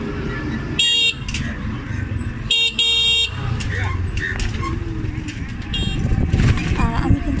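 Riding in an auto rickshaw on a village road: a steady rumbling motor and road noise, with repeated horn toots from passing vehicles and some voices talking in the background.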